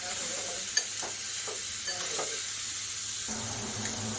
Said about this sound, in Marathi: आता याला हलकंसं फ्राय होऊन द्यायचं जास्त शिजवायचे नाहीत आपल्याला हे मूग